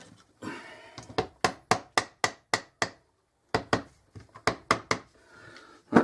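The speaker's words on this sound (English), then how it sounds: "I'll put it over the vise gently and tap it with a mallet" A mallet taps a bearing part from an ELU MOF96 router resting over a vise, giving a crisp run of about eight knocks, a short pause, then another quick burst of taps, close and clear.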